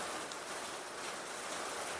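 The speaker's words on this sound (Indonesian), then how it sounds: "Hujan lebat, makin lebat, teman-teman." Heavy rain pours steadily under a tree, a dense, even hiss of falling water with no breaks, moderately loud and without any voices.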